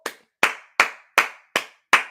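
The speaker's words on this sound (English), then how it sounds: "Jason Garrett clap." Six sharp, evenly spaced hand claps ring out close by, each a crisp slap with a quick fading tail, with nothing else around them.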